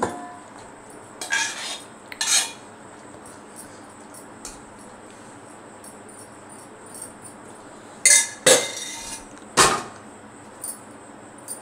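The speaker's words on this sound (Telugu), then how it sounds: "ఈ కర్రీని మనం ఒకసారి వేరే బౌల్లో వేసేసుకుందాం." Metal spoon scraping and clinking against a pot and bowl as aloo mutton curry is moved into another bowl, a few sharp bursts spaced apart over quiet kitchen background.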